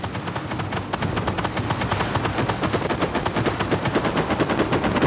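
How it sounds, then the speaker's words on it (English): Rapid automatic gunfire from the tank game Armored Warfare hammers out in a steady, evenly spaced stream of sharp shots, loud and continuous throughout with no talking. "I'm under fire."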